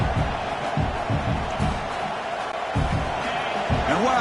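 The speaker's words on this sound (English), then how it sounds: "listen to this crowd noise. This stadium is vibrating" Roaring crowd in a college football stadium during Notre Dame at Texas A&M, a dense sustained rumble of cheering and shouting with a commentator's voice over it.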